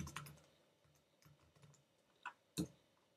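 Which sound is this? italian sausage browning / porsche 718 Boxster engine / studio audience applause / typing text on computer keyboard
typing text on computer keyboard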